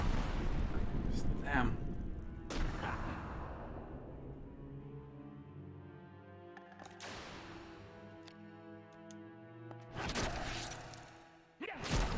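Flame Sphere level 2 fire spell from the Vagrant Story video game: a burst of crackling, roaring magic impacts with sweeping tonal game effects that fade and then flare again, as someone speaks briefly over it.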